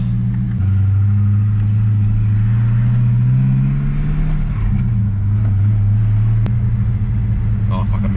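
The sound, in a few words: manual Holden Commodore SS car driving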